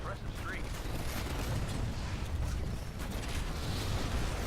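Video game explosions and gunfire from Titanfall, Attrition mode on the Lagoon map, a dense, continuous rumbling barrage of blasts with booming low end that fills the whole stretch without pause.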